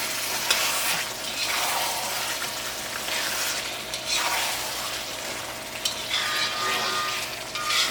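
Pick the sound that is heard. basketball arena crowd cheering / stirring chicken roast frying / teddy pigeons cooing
stirring chicken roast frying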